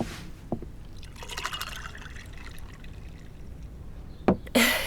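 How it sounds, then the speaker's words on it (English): Water poured into a glass, a short run of trickling and splashing liquid, close and fairly quiet, followed near the end by a couple of sharper knocks. "I'll get you a glass of water."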